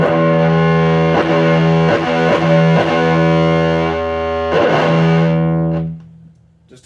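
Heavily distorted electric guitar chords from a 1993 Gibson Les Paul Studio through an original 1985 ProCo Rat whiteface distortion pedal, loud and sustained with several restrikes, then ringing out and fading near the end.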